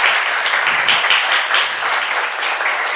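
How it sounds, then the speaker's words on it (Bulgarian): Steady, dense audience applause fills a room at the launch of a poetry book, a continuous wash of many hands clapping, fairly loud and close, with no voices over it. "Да, още аплодисменти"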